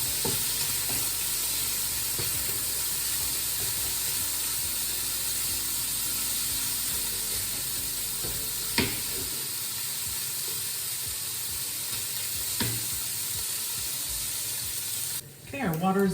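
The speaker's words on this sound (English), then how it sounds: "Just keep stirring our bacon." Bacon chunks sizzle steadily in a pan while being stirred for black beans with smoked chorizo, a continuous close frying hiss with occasional scraping clicks from the spoon, and the crackle fades near the end.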